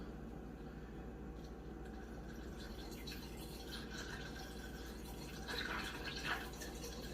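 A quiet, steady trickle of about 8 ounces of liquid pouring into a container, with faint splashes and drips over a low background hum.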